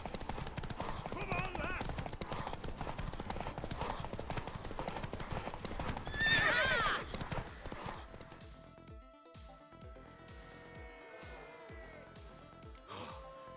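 A horse in the video game The Witcher 3 clip-clops along at a brisk gait, hooves drumming steadily and close for several seconds, with a short neigh and a snort partway through; a man urges it on, then the hoofbeats fade under quieter game ambience.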